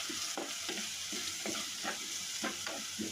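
Onion, curry leaves, garlic and ginger sauté in a hot pan with a steady sizzle, while a spoon scrapes and stirs in a regular rhythm of about two strokes per second, close and continuous, with no voices.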